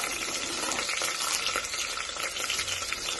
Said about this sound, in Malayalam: കുറച്ച് സവാള ചേർക്കാം.